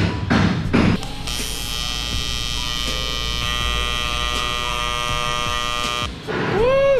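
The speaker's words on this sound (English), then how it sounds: "Now I'm gonna TIG weld it all up." TIG welding on the body of a chopped and slammed Chevy Fleetline, a steady close electric buzz lasting several seconds between clunks at the start and end.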